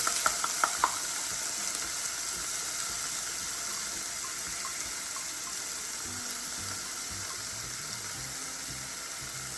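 Onions frying in a pan on the stove, a steady moderate sizzle with a few sharp clicks at the start and a faint low rumble joining toward the end, no voices.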